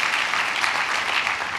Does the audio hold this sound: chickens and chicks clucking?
no